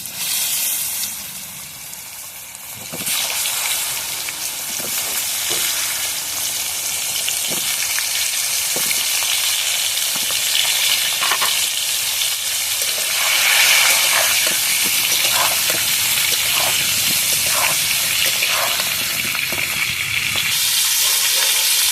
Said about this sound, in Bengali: কড়ার মধ্যে সামান্য নুন আর সামান্য হলুদ দিয়ে পটলগুলো কিন্তু আমি ভাজবো।